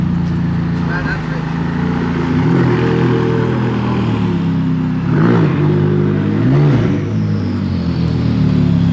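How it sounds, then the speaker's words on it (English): McLaren 570S sports car pulling up to a BMW meet, a steady engine drone with rising and falling rev swells, heard close from inside with voices talking over it. "Pulling up in the McLaren to a BMW meet."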